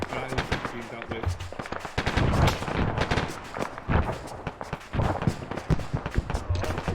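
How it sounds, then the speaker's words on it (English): Gunfire in the military video game ArmA cracks out in irregular bursts of sharp shots amid other combat noise, with players talking over it throughout. "Taking fire from somewhere."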